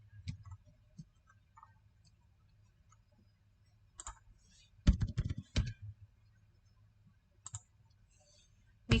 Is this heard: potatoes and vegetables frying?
no